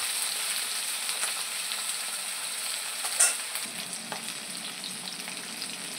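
Pointed gourd (kankrol) fries steadily in a pan with oil, giving a continuous close sizzle and a brief clatter of stirring partway through.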